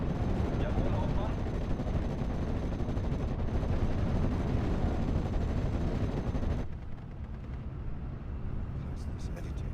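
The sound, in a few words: anti-tank gun firing in the video game Steel Division 44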